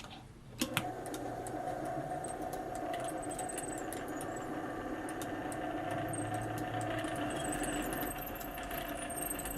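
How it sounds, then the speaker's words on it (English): In a steampunk Levitite charger, a gear motor drives a chain with a steady mechanical whir and hum, with scattered light ticks and clicks, continuous and fairly quiet throughout. "Our gear motor is turning the chain, which is activating the eccentrics and the switches"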